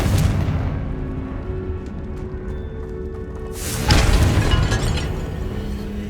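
A Confringo fire spell detonates in Hogwarts Legacy: a loud, broad explosive burst hits near the middle of the clip and rolls into a rumbling tail over steady low game ambience inside a cave-like great room.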